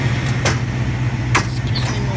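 A 1966 Mustang Fastback's 289 four-barrel V8 idles steadily with a low, even rumble, broken by a couple of brief clicks or ticks.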